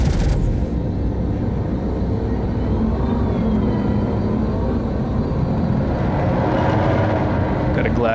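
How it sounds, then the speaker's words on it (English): A spaceship flies through space in Star Citizen, giving off a steady, loud engine rumble and whoosh that drones on with little change, with a brief burst of sharp noise at the start. "Got some new noises of ship flying"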